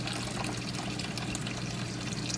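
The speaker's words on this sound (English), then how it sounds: "I'm basically rinsing the GFO without sticking it in the sink" Water poured over GFO (granular ferric oxide) filter media to rinse it while setting up a reef aquarium media reactor, a steady broadband trickling and splashing that runs continuously and fairly close.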